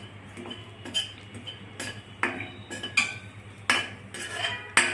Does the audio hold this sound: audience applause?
no